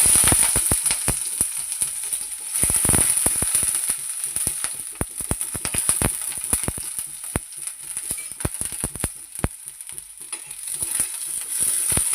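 Sliced ivy gourd, onion and green chilli hit hot oil for tempering, with soaked chana dal and tomato nearby, crackling and sizzling loudly in the pan with stirring scrapes throughout.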